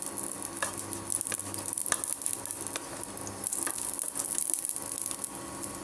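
Green and dried chillies fry in a small amount of oil, giving a steady, close sizzle with light crackles and stirring scrapes throughout, no voices.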